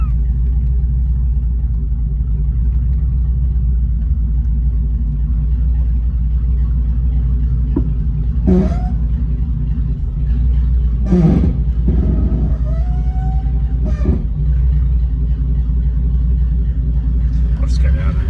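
A Mercedes 300SEL 6.3 rolls under its own power, its engine giving a loud, steady low rumble throughout, with a few sharp knocks and brief voices over it.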